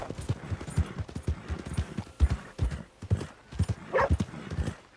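In Red Dead Redemption 2, a weak horse's hooves clip-clop steadily and close by at a walking rhythm, and a short whinny breaks in partway through.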